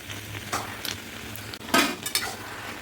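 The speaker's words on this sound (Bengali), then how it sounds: "এবারে আমি ভালো করে মশলার সাথে কষিয়ে নেব।" Boiled taro greens with fried prawns and spices are stir-fried in a pan, with a metal spatula scraping and clinking in irregular strokes over a soft sizzle.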